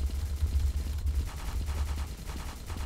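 Rapid bursts of gunfire in the zombie-mode shooter Truy Kích, heavy low thumps repeating steadily throughout at close range, with no voices over them.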